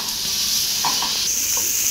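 Cabbage frying in a pan for a cabbage and coconut chutney, a steady close sizzle with faint stirring scrapes and no talking.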